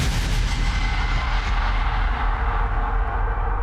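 A bomb goes off in a TV crime drama, a loud, dense blast and rumble filling the whole moment with sustained roaring noise and no voices.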